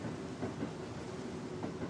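A train rolls past in the video game Burger & Frights, a low steady rumble of wheels and carriages with faint clickety-clack, fairly quiet and continuous with no talk.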